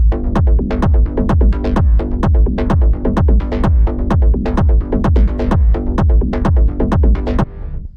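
A heavy techno kick thumps steadily on every beat, fused with a deep rumbling bass tail, dense and loud throughout with no voices.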